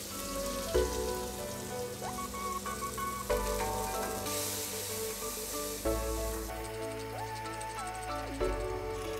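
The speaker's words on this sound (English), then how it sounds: "Add butter to the pan." Butter sizzles steadily in a hot pan while cooking for a roast turkey with chestnuts and vegetables, a continuous dense crackle with occasional clinks and tonal beeps over it.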